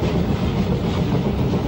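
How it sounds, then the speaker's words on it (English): A 1962 steam train on the Brecon line rumbles along the rails in a dense, steady clatter, loud and close with no pauses. "The train enters Torpanto Tunnel, which marks the summit of the climb from Telebont."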